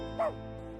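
A dog in the video game Smiling Misery gives a single short, high yip over a steady game background hum.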